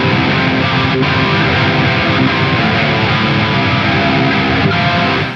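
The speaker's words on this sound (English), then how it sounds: "the next step is adding in my boost, which I'm using a TS-808." Heavily distorted electric guitar run through a Friedman overdrive with a TS-808 boost, a thick, tight, continuous wall of chugging chords played loud and close without pause or voices.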